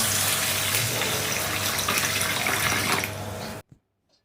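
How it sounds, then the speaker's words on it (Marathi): Water pouring and splashing steadily from a tap while lentils and rice are rinsed clean, loud and close for several seconds before cutting off abruptly, followed by a faint knock. "हे जे डाळ तांदूळ आहेत ते आपण स्वच्छ पाण्याने धुवून घेणार आहोत."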